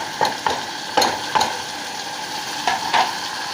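Chicken and tomatoes sautéing in a pot for Saudi-style kabsa, with a spoon stirring in several short scraping bursts over a soft, steady sizzle and no talking.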